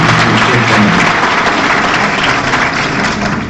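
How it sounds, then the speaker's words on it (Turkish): Loud, dense applause from an audience in a hall at a chamber of commerce anniversary address in Orhangazi, sustained and close, fading slightly toward the end. "Alkış yapın."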